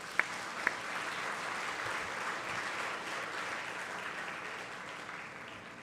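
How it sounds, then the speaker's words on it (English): A convocation audience at a university gathering claps steadily in sustained applause that fills the room, with a couple of sharper claps near the start and no speech over it. "Let's all give ourselves a round of applause."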